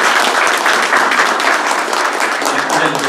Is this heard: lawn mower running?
no